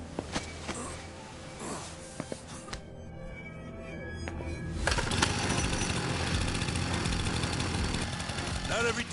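A chainsaw in the video game Lost Judgment pulls and sputters, then catches and roars into a loud, steady rasping drone that continues to the end, with voices talking around it.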